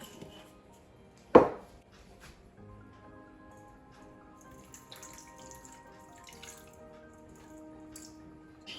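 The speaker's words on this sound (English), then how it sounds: "I'm just going to pour 1/2 cup of water on here and let it hydrate for at least 10 minutes" Half a cup of water is poured over gelatin in a home kitchen, a brief splash early on followed by a low steady background hum, quiet and without speech.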